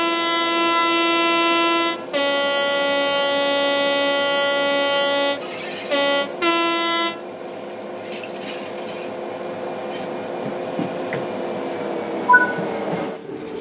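A British Rail Class 66 six-axle diesel-electric freight locomotive in Train Sim World 3 sounds its horn in several long, loud, tonal blasts, followed by a lower engine and rail rumble with no talking.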